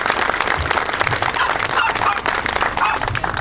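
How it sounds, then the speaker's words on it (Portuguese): An audience at the inauguration of a facility in Coruche breaks into dense, sustained applause, many hands clapping together at close range with no break. "Portanto, para a Vera, mais uma salva de palmas, porque ela merece e é ela a responsável por isto."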